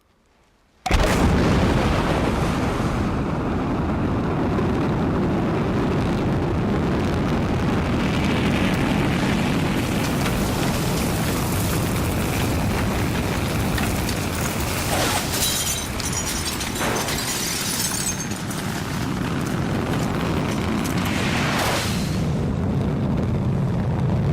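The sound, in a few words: Proton rocket launching Zarya module to orbit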